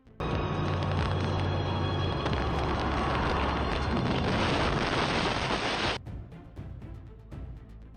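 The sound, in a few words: plane crash explosion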